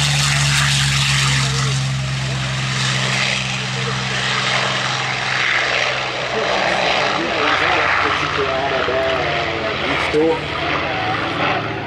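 A loud propeller warbird's engine roars steadily at an air show in Guiscriff, swelling as the plane takes off, with a voice speaking over it.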